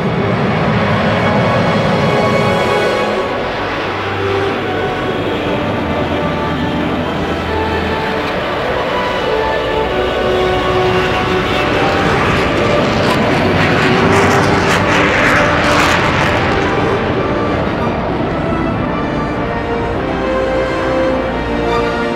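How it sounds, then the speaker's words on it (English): Concorde supersonic airliner on the runway at full throttle with reheat, a loud sustained jet roar that holds steady for over twenty seconds, dense broadband rumble with no voices. "the noise when she actually got onto runway, opened the throttles, full power with reheat"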